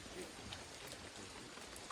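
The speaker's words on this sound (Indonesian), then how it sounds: "Hujan rintik-rintik, sejuk." Light drizzle falling in a quiet forest near Cirebon, a soft continuous patter of fine drops, faint and even, with no voices.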